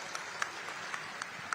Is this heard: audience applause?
yes